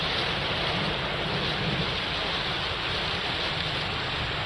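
Waist-deep floodwater rushes through the narrow lanes of Dharavi, Mumbai, during heavy rain, giving a loud, unbroken roar of flowing water with no voices.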